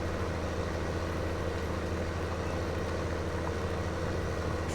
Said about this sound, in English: working nicely, this tractor on the plough